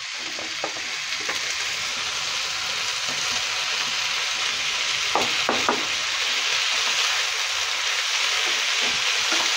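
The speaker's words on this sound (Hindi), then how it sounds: "एबे आमे मु कैप्सिकम जो काटी थी लास्ट को कैप्सिकम पकाउची" Capsicum cooks in a pan with tomato puree, giving a constant close sizzle and crackle with a few soft stirring taps scattered through it, and no voices.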